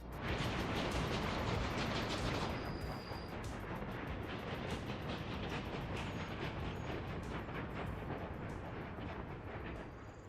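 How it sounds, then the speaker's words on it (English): A short freight train in a video game rumbles steadily and fairly loud for the whole stretch, a dense broadband rolling noise with a brief high tone partway through and no talking. "Very short train."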